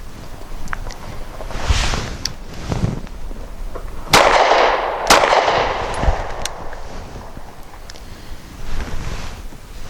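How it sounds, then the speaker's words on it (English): A Mossberg MC1sc pistol firing at targets outdoors: two sharp, loud shots about a second apart, with steady wind rumbling through the microphone before and after. "I'm going to shoot at the larger targets from a low ready position. 2 shots up, safety off, and then down, safety on."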